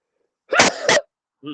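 A single sharp sneeze bursts out, close and loud, followed by a short pause and a brief voice starting to speak.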